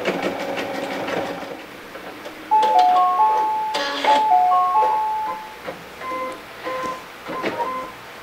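An embroidery machine stitching a Hardanger-style design runs with a steady mechanical rattle and clatter, broken by several short electronic beeps. No one speaks.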